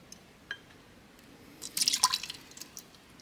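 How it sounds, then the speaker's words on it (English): Vermont maple liqueur pours into a pot for blueberry chocolate cordials, heard as a brief, faint splash and trickle of liquid after a single small drip. "we're going to go ahead and add our Vermont maple liquor"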